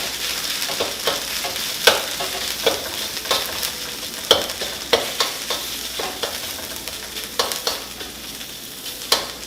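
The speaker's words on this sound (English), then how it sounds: "once the oil is all heated up, you're going to drop curry in and just let it cook to get all the curry oil out" Green curry paste fries in hot oil for a Thai green curry with shrimp, giving a steady sizzle broken by sharp clicks and scrapes of stirring, close and fairly loud, with no talking.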